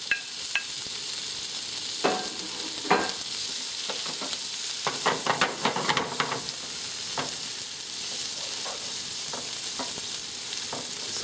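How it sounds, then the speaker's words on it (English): Green pepper, tomato and onion sauté in a hot pan under a constant sizzle, with repeated clinks and scrapes of a utensil stirring the vegetables at irregular intervals. "First we're gonna saute our vegetable a little bit"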